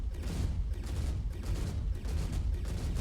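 Ballistic cannon volleys from a Hornet F7 MkII spacecraft in a video game, a steady stream of dull, rapid thumping shots in short repeating bursts, fairly quiet and low-pitched.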